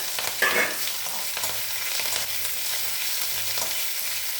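Mustard seeds, cumin, lentils, green chillies and curry leaves tempering in hot oil, a steady close sizzle and crackle with a few louder pops early on and no talking.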